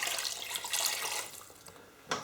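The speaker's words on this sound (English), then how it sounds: "I'm just going to pour in all that sugar, and again, same with the water." Sugar and then water poured into a pan for making toffee for candy apples, a steady close trickling wash of liquid with a brief splash near the end.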